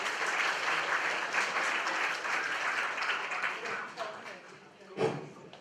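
An audience at a presentation night in South Korea gives sustained applause, a dense wash of clapping that tapers near the end, with a voice speaking over it.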